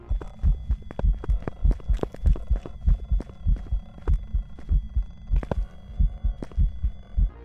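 Revenant ghost in the video game Phasmophobia slowing down after losing sight of the player: a steady run of heavy, muffled thudding footsteps, close and rhythmic, over a faint electronic hum.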